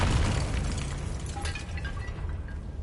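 A fiery Confringo spell explosion from the Hogwarts Legacy game sounds as a dense, loud rumbling blast that fades slowly, alone with no voices.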